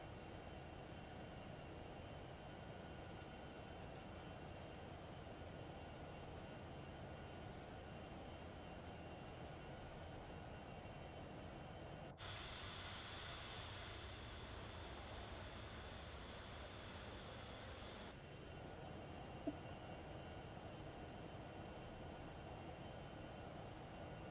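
Boeing 707 jet engines in MSFS 2024 drone steadily at low volume during acceleration after takeoff, a broad, even roar with a brief brighter hiss partway through and no talking.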